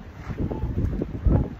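Strong wind outside the Biltmore house in Asheville pushes into the microphone, producing a brief, loud, gusty low rumble.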